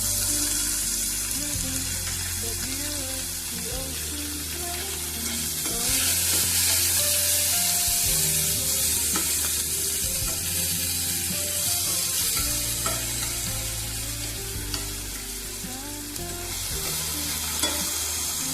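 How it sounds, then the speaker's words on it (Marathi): Chopped onion sizzles in hot oil with mustard seeds, cumin, coriander and curry leaves while a spoon stirs and scrapes the pan, a steady close frying hiss with scraping strokes throughout and no voice. "कांदा थोडासा भाजून घेणार आहोत आपण।"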